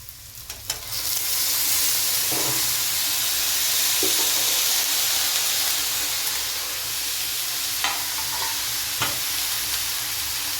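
Steady loud sizzle of vegetables frying in a pan, with a few scraping stirs of a utensil breaking through the hiss.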